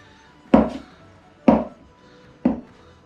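A knife chops spring roll dough on a wooden board into small sections: three sharp, evenly spaced thuds about a second apart, close and distinct against a quiet background.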